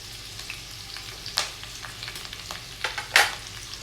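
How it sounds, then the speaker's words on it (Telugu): Onion, curry leaves, carrot and beans fry in a pan for egg fried rice, giving a soft steady sizzle with a few louder scraping stir strokes, close and without talk. "ఇవన్నీ కూడా కొంచెం లైట్గా ఫ్రై అయితే చాలండి, ఎక్కువ ఫ్రై అవనవసరం లేదు."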